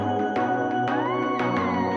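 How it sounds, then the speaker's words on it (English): A drum and bass track intro plays on its own: sustained synth pad chords and bass with sharp drum hits landing at a steady pulse, loud and full, with no voices. "Just this little drum and bass intro sounds a bit like this."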